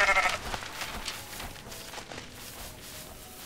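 Sheep bleating in the Goat Simulator MMO video game, a short bleat at the start followed by quieter game ambience and scattered soft noises.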